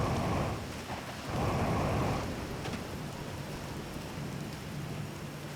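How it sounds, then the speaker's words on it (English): Rain falls steadily in the Outer Wilds game world, a continuous wash of drops with a low rumbling surge near the start, no voices over it. "It's a good thing I never get bored of rain, huh?"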